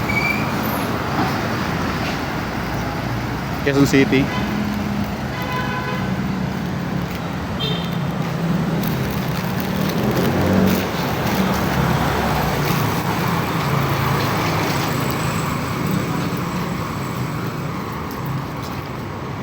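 Road traffic rumbles steadily near Novaliches, Quezon City, with vehicles passing close and a brief horn toot; a person speaks faintly beneath the constant roar.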